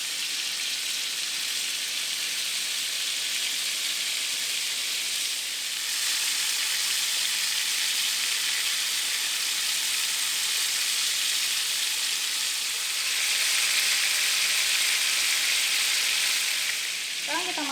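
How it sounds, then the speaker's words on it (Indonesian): Saikoro beef cubes sear in a pan over high heat, giving a loud, steady, bright sizzle that holds for the whole stretch and swells a little at times. "Masak dengan api besar masing-masing sisinya selama 3 menit"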